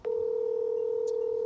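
Phone dialing a cell phone while adding a call for a three-way conversation, with a single steady tone sounding clearly after a brief click, alone and fairly loud.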